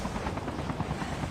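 A helicopter in a Call of Duty match, its steady loud rotor chop and engine drone filling the scene continuously with no pauses.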